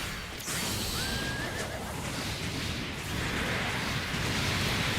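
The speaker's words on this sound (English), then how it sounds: "The horse has been awakened!" In a Gundam video game, a horse lets out a loud neigh over dense crashing and rumbling effects. It comes briefly, near the start, then the noisy action carries on.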